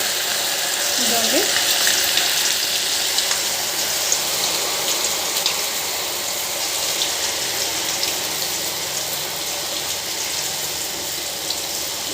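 Punugulu made from idli batter fry in hot oil with a steady, close, hissing sizzle that holds at an even level for the whole stretch, with faint bubbling crackle throughout.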